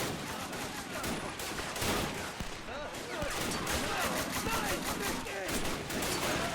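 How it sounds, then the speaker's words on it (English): Sustained machine gun fire from a French gunner in a WW1 winter battle video game, rattling continuously amid dense, loud, overlapping gunfire and battle noise. "I hear a French machine gunner further back open up at the Germans here around the corner"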